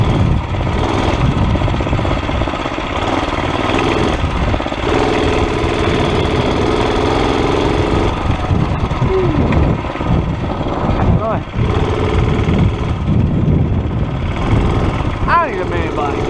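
A small mini bike engine runs during a test drive, a loud, steady rattling putter that holds throughout with slight surges, while someone talks over it in places.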